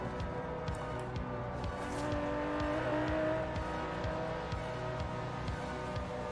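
An Aston Martin DB11 with a 5.2-litre twin-turbo V12 drives in Forza Horizon 4, its engine holding a steady loud drone with rhythmic shifts in pitch and brief tire squeal, with no voices.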